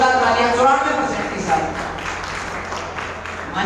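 Steady applause fills a school awards ceremony at Tagore School in Taranagar, a continuous patter of many hands clapping at moderate volume while a voice speaks over it.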